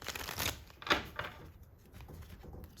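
A deck of tarot cards is shuffled by hand in a few quick riffling bursts that fade into faint, soft rustling, close and quiet, with no voices.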